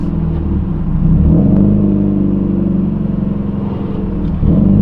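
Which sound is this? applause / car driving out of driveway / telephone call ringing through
car driving out of driveway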